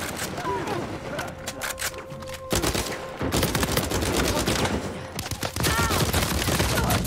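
Bursts of rapid gunfire from an Uncharted 4 multiplayer match, dense volleys with a brief lull midway, loud and close with game effects layered underneath.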